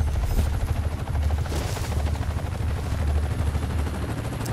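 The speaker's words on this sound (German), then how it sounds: "jetzt kommt der Hubschrauber dagegen zu" Helicopter rotor drone mixed with bursts of gunfire in the desert shooter game Warface, a steady loud wash of engine and shots throughout with no talking.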